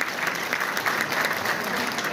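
Audience applause at a Turkish foundation's evening gathering, dense and steady clapping from a hall full of people, fairly close and continuous throughout.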